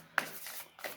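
A brief burst of oracle cards being shuffled by hand, a soft riffling rustle heard close and quiet, two quick flurries within a second.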